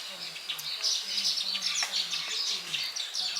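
Weaver birds chirp continuously outdoors near a pond, a dense, bright twittering chorus at moderate distance, with a low hum running beneath it.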